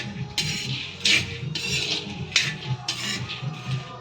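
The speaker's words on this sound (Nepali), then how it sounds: "आमा बदम भुट्दैछु" Peanuts roasting in a pan are stirred with a metal utensil, producing repeated close scraping and clinking strokes in an uneven rhythm.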